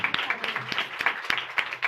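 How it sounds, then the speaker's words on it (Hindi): A church congregation claps in scattered, distinct hand claps at close range, irregular and fairly quiet for a short burst, with no speech heard. "बाहर वाले भी जोरदार तालियां।"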